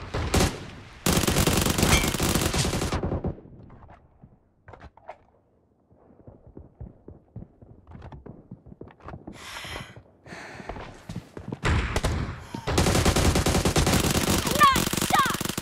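Automatic gunfire in the BGMI battle royale game comes in two long, loud bursts at the start and end, with quieter scattered shots, clicks and movement sounds between.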